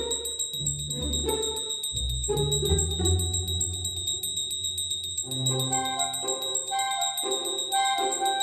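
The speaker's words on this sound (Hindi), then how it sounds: "मंदिर में घंटी की आवाज है, कोई पूजा कर रहा है।" A temple bell rings during worship, steady metallic chiming with sustained high overtones running throughout, mixed with low rumbling background sounds and struck tones.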